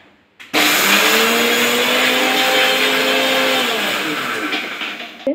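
A mixer grinder pulverizes puffed rice with cashews into a fine powder, a loud steady whirring motor roar that starts abruptly after a brief pause and holds for several seconds before winding down.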